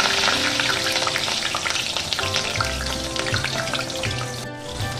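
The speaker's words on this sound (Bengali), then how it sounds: "বেগুনটাকে আমি এখানে একটু সাঁতলে নেব।" Long strips of eggplant frying in oil in a wok, a loud busy sizzle with popping and crackling spatter that carries on throughout, alone with no voices.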